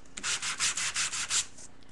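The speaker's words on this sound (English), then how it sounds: "take the sanding tool and I'm going to sand this and sand this and sand this." Rapid back-and-forth sanding strokes, about eight rhythmic scrubbing passes, close and fairly loud, with no talking.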